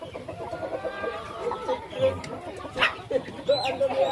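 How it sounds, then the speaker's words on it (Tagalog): Doves coo softly on a farm in Bohol, Philippines, where they nest, with chickens clucking around them and people talking over the birds. "Diyan naglumlum mga katupay."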